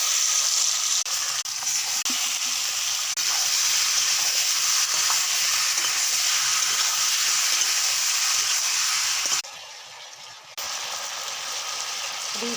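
Spices and bay leaf frying in hot oil for a chicken curry, potatoes just fried, a loud steady hiss and sizzle with a brief quieter dip before it resumes.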